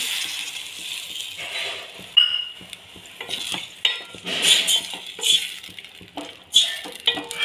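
Potato curry (batata rassa bhaji) being stirred in a pan, with repeated scraping and clinking of a spoon against metal over a soft background sizzle, close and fairly loud.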